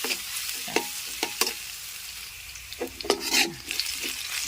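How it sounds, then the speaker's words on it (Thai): Chilli and garlic are stir-fried in a pan over a charcoal stove: a soft sizzle broken by sharp scraping and clanking stirring strokes in irregular bursts, close and with no voices. "ใส่พริกกระเทียมเราลงไปค่ะ ให้หอมเลยค่ะ"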